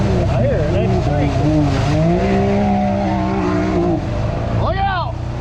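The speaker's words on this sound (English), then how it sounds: "That was a damn turbo that just went by" A turbocharged car passes close by on a rainy road, its engine note rising and falling with a quick doppler sweep over a steady rumble of wind and road noise, while a voice talks throughout.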